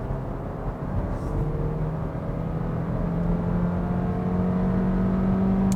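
2021 Hyundai Tucson compact SUV accelerating at full throttle in normal mode, a steady, rising engine drone with a climbing tone, heard from inside the cabin at moderate level.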